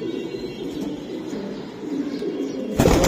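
Pigeons at a breeder's loft of racing high-flying Giribaz pigeons coo steadily and softly nearby, with a sudden louder flutter-like burst at the end.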